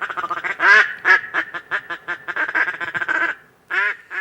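Ducks quack in a rapid, loud series of nasal calls, close and rhythmic, tapering off, then a short pause and a final burst of quacks.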